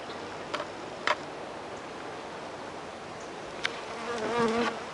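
Honey bees from a package being hived in a green-themed apiary hum in a faint, steady background buzz, with a few sharp clicks and taps and a brief louder buzz near the end.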